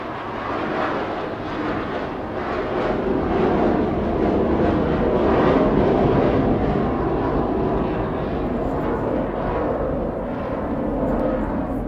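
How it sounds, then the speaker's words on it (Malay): An airplane passes overhead with a steady, loud broadband roar that swells slightly in the middle and holds for about twelve seconds, with no one speaking. "ingat balik bentuk ni kapal terbang lalu"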